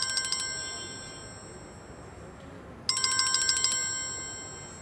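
An electronic phone ringtone plays in two bursts of rapid trilling tones with a pause between, over a steady background hiss.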